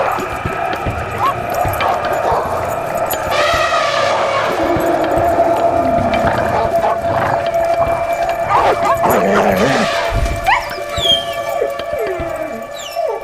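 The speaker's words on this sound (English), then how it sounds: "Like wolves, dogs hunt by instinct, going for the legs or neck to bring down a large animal." Feral dogs attacking a large animal in a deserted, human-free world bark and yip in overlapping bursts amid a loud, busy mix of other animal cries and noise.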